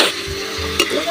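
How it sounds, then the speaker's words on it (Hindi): Onions frying in a pan over an open fire beside ginger and garlic, a steady close sizzle with a few stirring scrapes and clatters and a low voice murmuring underneath. "तो अच्छे से ओनियन को फ्राई कर लेते हैं।"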